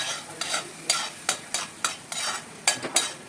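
Ground masala sautés in hot oil for veg kolhapuri, a soft steady sizzle broken by repeated scraping strokes of a spoon stirring the pan, close and clear.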